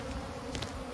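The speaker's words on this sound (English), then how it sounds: "So a lot of bees are going airborne." Bees from an abandoned hive go airborne after the box is shaken, making a dense, steady buzzing hum that fills the short moment at close range.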